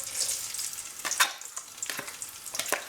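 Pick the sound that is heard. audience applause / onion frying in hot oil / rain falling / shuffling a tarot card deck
onion frying in hot oil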